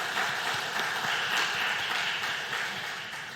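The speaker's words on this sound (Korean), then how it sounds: "우리 청년들을 위해서 축복하는 박수 하도록 합니다" Church congregation at a Wednesday youth dedication service clapping to bless the young people, a steady crowd applause that fades slightly toward the end.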